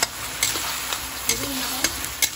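Sardines simmering in a pan after water is added, a dense bubbling sizzle with light stirring clicks recurring every half second or so, close by.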